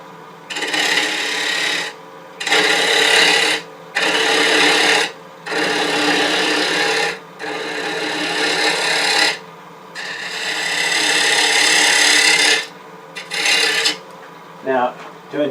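A wood lathe cuts down the tenon on a turned wooden bowl, loud scraping bursts of a second or two each, separated by short pauses, ending in a longer steady pass and a few brief touches.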